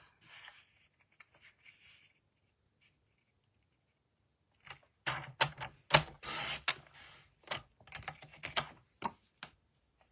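Scissors cut through a half sheet of A4 paper, leaving a rectangle 10.5 by 18.4 cm. A burst of sharp, close snips and crisp rustles follows a quiet start with a few faint paper handling noises.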